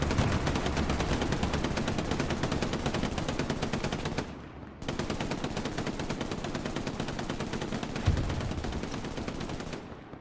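Sustained automatic machine-gun fire in Hell Let Loose on an Omaha Beach map, a fast continuous stream of rounds with a brief break near the middle, then a heavier boom amid the steady firing.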